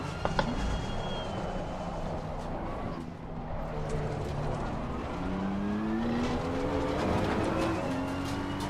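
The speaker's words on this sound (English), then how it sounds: "And the Gallardo sounds beautiful," A Lamborghini Gallardo engine in the racing game Assetto Corsa Competizione revs up and down through the gears, a continuous moderate drone with rising pitch sweeps and other cars' sounds mixed in.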